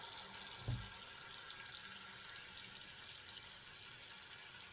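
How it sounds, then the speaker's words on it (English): Water runs steadily from a kitchen faucet into a pot of potatoes, a faint continuous hiss and splash with a brief low thump near the start, no voices. "I put just enough water to go over the top."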